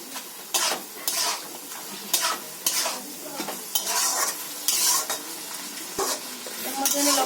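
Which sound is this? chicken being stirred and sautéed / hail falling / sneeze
chicken being stirred and sautéed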